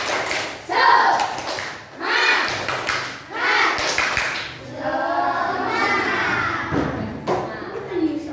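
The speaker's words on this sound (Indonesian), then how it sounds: "Tepuk semangat dulu dong" A classroom of children performs a rhythmic clapping cheer, tepuk semangat, in bursts of claps mixed with chanted voices, loud and near, with pauses between the rounds.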